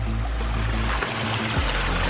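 Water from a waterfall and stream in a front yard koi pond runs in a steady, close wash of flowing and splashing, with a low rumble underneath throughout.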